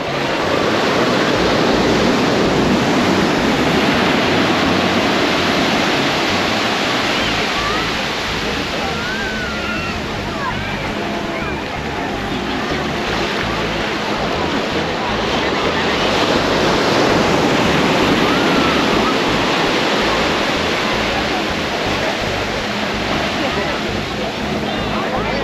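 Continuous roar of surf washing in at Nai Harn Beach, loud and close, with wind noise over it and faint voices in the background.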